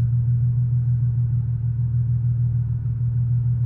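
The engine of a manual Nissan 370Z NISMO gives a loud, steady low rumble from close by as the car pulls away, with no voices over it.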